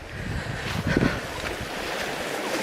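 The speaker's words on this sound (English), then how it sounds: "There's an awful lot of water coming down off the hills." Stream water pours through a wide ford below rain-soaked hills, a steady, close rushing wash with a brief splashy surge, mixed with wind buffeting the microphone.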